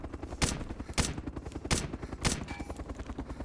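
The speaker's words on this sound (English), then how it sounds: "I'm just trying to shoot this guy quickly." Gunshots in the ARMA 2 DayZ mod, four sharp loud cracks spaced roughly half a second apart over a low rumbling background, with no speech.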